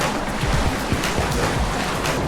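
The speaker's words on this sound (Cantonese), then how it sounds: "呢度嘅洞穴景色係令你感受到大自然嗰份威力，因為好大浪啊" Big waves surge and crash inside a sea cave on Boracay, a continuous loud rumbling wash of water with rushing hiss and no voices.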